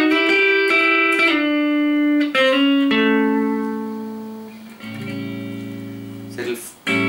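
Electric guitar slowly plays a bluesy lick of picked, sliding notes that ring out, finishing on a sustained low note.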